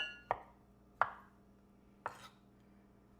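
Knife chopping vegetables on a board for a chickpea salad: three sharp, separate thwacks spaced about a second apart, with a fourth starting at the very end, close and crisp against near silence.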